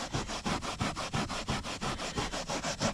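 An awl scrubs back and forth across coffee-stained carpet in a 2003 Toyota Camry, a fast, steady rhythm of close, raspy rubbing strokes with no talking.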